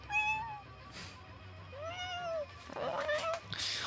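A domestic cat meows several times in a row, close and clear, with drawn-out rising and falling cries over a low background hum, during a late-night livestream of a Vikings strategy game.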